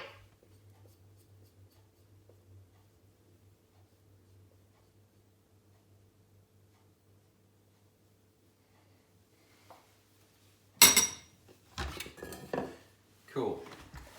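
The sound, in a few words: mixing sourdough leaven in a bowl, scraping down the sides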